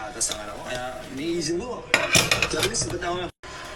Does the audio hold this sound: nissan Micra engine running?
no